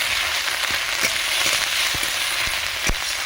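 Onion, ginger, poppy seed and cumin pastes fry together for a fish curry, a steady close sizzle with a few sharp clicks of a spoon against the pan.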